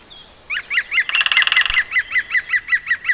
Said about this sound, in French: Cette femelle prépare son futur nid, un pinson des arbres.